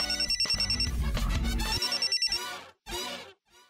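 A phone's electronic ringtone trills loudly and rhythmically, in rapid repeated pulses with short pauses, in a Marathi TV serial scene.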